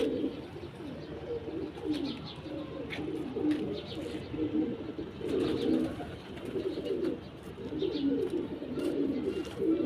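Pigeons coo in a steady low murmur, repeated calls overlapping throughout, with occasional faint chirps and soft rustles nearby.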